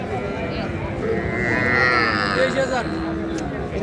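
A young Sahiwal bull calf on a cattle farm in Mymensingh, Bangladesh, gives a long, loud, close moo while people talk nearby.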